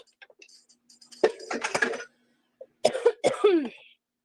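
A few harsh coughs come in two clustered bursts close to the mic, separated by a brief pause, with light breathy sounds before them.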